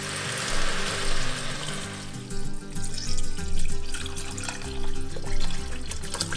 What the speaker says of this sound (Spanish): Un par de minutos después, a lumbre media, agregamos agua.